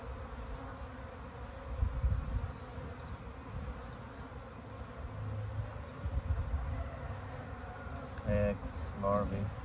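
Honeybees buzzing during a beehive frame inspection, a dense steady drone of many bees close by, with brief handling knocks and a short voice near the end.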